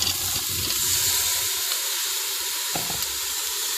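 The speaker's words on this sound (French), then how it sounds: "je vais rajouter les pommes de terre ainsi que les knacky" Potatoes and knacki sausages sizzling in a preheated Cookeo multicooker, a continuous moderate frying hiss with a few soft clicks and scrapes toward the end, no talking.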